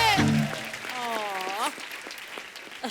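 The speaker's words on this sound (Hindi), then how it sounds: "एक बार जोरदार तालियां गोविंदा जी और सुनीता जी के लिए" A studio audience on a TV comedy show applauds for Govinda and Sunita, a broad wash of clapping running beneath a host talking loudly over it.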